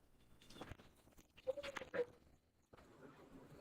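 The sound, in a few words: dog barking behind the speaker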